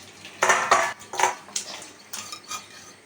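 Cooked mutton kosha, a Bengali spiced mutton curry, is tipped and scraped from a pot into a serving dish, giving a run of sharp metallic scrapes and clinks that trail off into softer taps.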